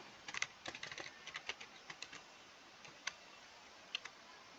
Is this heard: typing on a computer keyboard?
yes